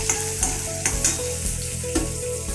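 Ingredients for a pirandai chutney (tamarind, green chilli and urad dal) sizzle steadily in a frying pan while a spoon stirs and scrapes at intervals, close and moderately loud, with no talking.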